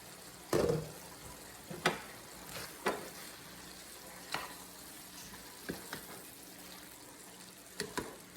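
Keto-style Cuban picadillo fries in a pan, a soft steady sizzle punctuated by intermittent louder crackles and stirring scrapes, close and without voices.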